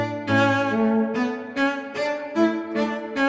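Software instrument patch played with staccato articulation: a series of short, detached sustained chords with clear rhythmic attacks, close and steady, with no voices.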